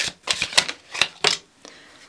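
Rider-Waite tarot cards being shuffled, a series of crisp riffling bursts in an uneven rhythm, close and fairly loud with no voices.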